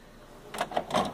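Lid of an HP 3636 inkjet printer being opened, a few short plastic clicks and creaks in quick succession, close and moderately quiet.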